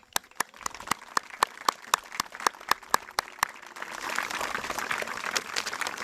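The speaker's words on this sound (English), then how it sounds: "let's give them a very loud round of applause." Scattered, distinct claps ring out one by one at a sports complex grand opening, then build into a fuller wave of crowd applause, somewhat distant and moderate in volume.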